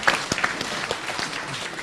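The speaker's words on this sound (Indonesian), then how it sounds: "tepuk tangan untuk jawaban dari saya" Audience clapping at a Buddhist Dhamma talk, a short burst of applause with a few sharper claps at the start that then settles into a softer patter.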